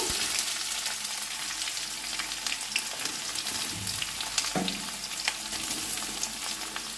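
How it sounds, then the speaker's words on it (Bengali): Chopped onion fries in hot oil for a spinach (palong) dish, giving a dense, continuous close sizzle with occasional soft scrapes and stirring knocks, no voices. "এখন আমি যে পেঁয়াজটা কুচিয়ে রেখেছিলাম সেটা দিয়ে দিচ্ছি"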